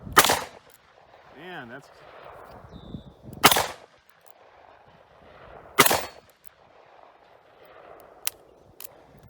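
Three loud, sharp shots from a Taurus Model 66 .357 Magnum revolver at a shooting range, spaced a few seconds apart with quiet gaps and a fainter crack near the end, plus a brief remark from a man.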